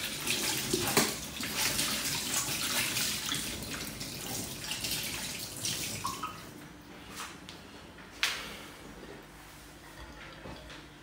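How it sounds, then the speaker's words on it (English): Water running from a tap to wash out a container while making Jamaican Guinness punch, a steady splashing wash through most of the clip with a couple of sharp knocks, fairly close. "Just wash this out."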